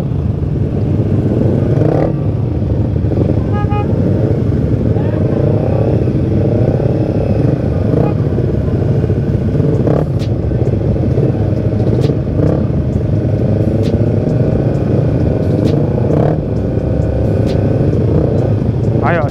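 A Yamaha Jupiter MX 135 motorcycle with a stock engine rumbles and revs steadily at close range, a loud continuous drone with clattering mechanical texture and occasional throttle swells, while a rider talks over it.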